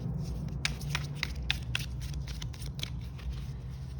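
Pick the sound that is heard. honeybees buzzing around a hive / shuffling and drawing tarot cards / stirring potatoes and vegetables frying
shuffling and drawing tarot cards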